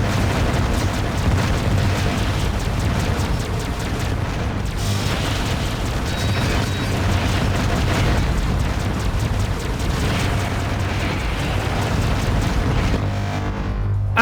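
A boss self-destructs in a video game, setting off continuous loud, rumbling explosion blasts that roll on densely with no pause, with no voices over them.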